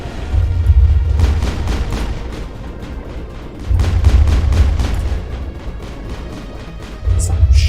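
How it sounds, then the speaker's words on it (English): Grenade blasts and weapon fire in the game Mass Effect, on the ruins of Ilos, roll out as repeated heavy low booms in long rumbling waves, loud and close, with faint talk in the background. "I'm gonna throw a grenade at your thigh and blow you up"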